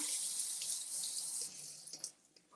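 Tap water running into a kitchen sink while strawberries are rinsed, a close steady hiss and splash that breaks up and tapers off as the flow is cut near the end.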